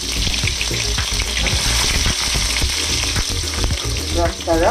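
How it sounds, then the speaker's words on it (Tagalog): Onion sautéing in olive oil in a pan for Singapore fried bee hoon, with a loud continuous close sizzle and repeated stirring clatter, and no talk. "Igisa natin"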